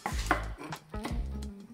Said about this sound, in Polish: Ja kroję paprykę ostrą, czyli w takie dość duże kawałki.